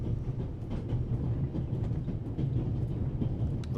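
The Orient Express, running from Paris to Istanbul, rumbles steadily along the rails with a continuous low roar and faint rhythmic clicking of wheels over track joints, heard from on board.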